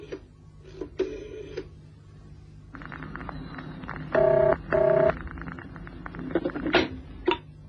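A telephone on a private line rings in two loud electronic bursts, preceded by dialing clicks and clatter and followed by handling noises in an otherwise quiet room.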